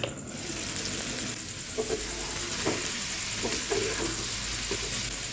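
Snake gourd frying in a pan with egg gives a continuous moderate sizzle, with a few soft stirring knocks and scrapes scattered through it and no voices.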